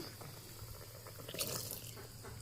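Thin whey left from making chhana is poured over freshly cooked sweets, giving a soft, low trickle and light splashing with faint dripping against steady background noise.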